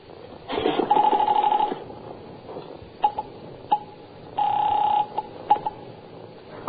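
In a radio drama, a telephone is lifted and dialed: a close rotary-style whir and clicks come in two longer runs with a few sharp taps between them, and no voices are heard.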